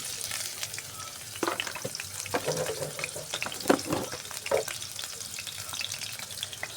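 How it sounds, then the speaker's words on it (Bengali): Potato pieces fry in hot oil in a pan as the first step of a goat curry, a soft continuous sizzle with scattered pops and clatters from stirring. "খাসির মাংস রান্না করার লাগে আমি তেলটা গরম করে নিয়েছি, কয়েকটা আমি আলু এখন ভাজে নেব।"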